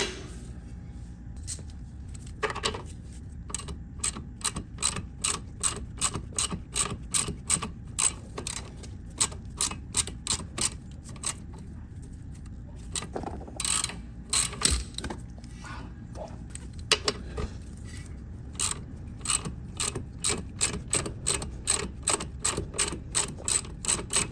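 A ratchet backing off a sway bar link nut on a 2015 Chevy Sonic: long runs of rapid, evenly spaced clicks with brief pauses, close and crisp over a low hum.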